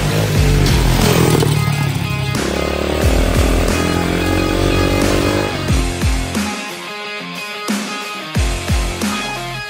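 A modified dirt bike engine revs hard with loud buzzing roars and rising pitch sweeps, then drops to sharp, irregular throttle blips and pops near the end.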